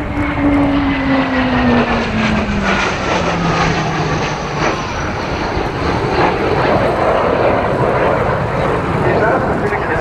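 Hawker Hunter two-seat jet flying at the RAF Cosford Airshow, a loud continuous roar with a descending engine tone as it passes, with people talking throughout.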